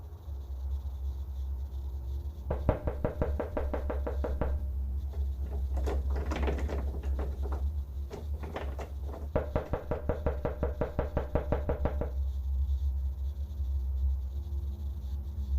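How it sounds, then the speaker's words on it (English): Someone knocks on a front door at night in a frightening scene, two bursts of rapid, sharp raps standing out clearly over a low steady hum, with a dense scraping stretch between them. "the sounds of someone or something knocking on Nat's front door can be heard"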